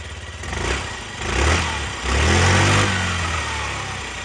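A Yamaha Gear four-stroke fuel-injected scooter engine runs close by with a low, steady putter, rising in two brief revs before settling back to idle.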